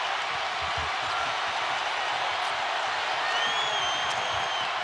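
Basketball arena crowd at a Tennessee vs Kentucky game, a steady, broad roar of fans filling the space with faint sneaker squeaks.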